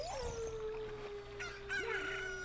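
A chicken in the N64 game The Legend of Zelda: Ocarina of Time gives a drawn-out, warbling crow-like squawk that rises and bends over a steady musical backdrop, with no talking.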